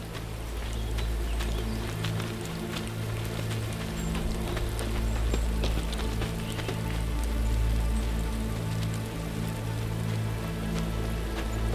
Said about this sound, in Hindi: बारिश हो रही है, निशान मिट जाएंगे।